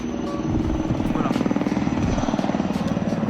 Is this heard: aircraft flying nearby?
yes